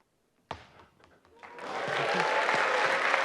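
An audience at a mechanical engineering talk night breaks into loud, sustained applause and cheering. It follows a sharp thud and some scattered noise, then swells and keeps going to the end.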